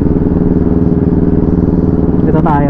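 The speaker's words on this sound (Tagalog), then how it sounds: "Dito tayo para marinig natin yung tambutso." A motorcycle engine idling nearby with a steady throbbing exhaust rumble, loud and even throughout, with a brief higher-pitched whine near the end.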